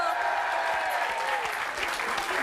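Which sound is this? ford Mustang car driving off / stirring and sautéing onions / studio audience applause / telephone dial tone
studio audience applause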